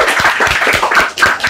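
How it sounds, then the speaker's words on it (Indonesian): A small community gathering claps briefly, a few seconds of close, uneven handclaps with a lively, bright texture and no talking over it. "tepuk tangan dulu dong."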